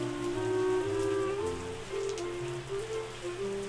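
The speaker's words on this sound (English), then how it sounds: "there's more rain coming in" Rain falls in the farming video game Terroir, a steady rain-on-surface patter mixed with layered tonal game music, with no speech.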